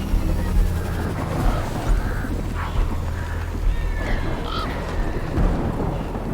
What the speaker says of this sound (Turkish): Oyunda bir de şöyle bir sıkıntı var arkadaşlar. Yağmur öldürüyor.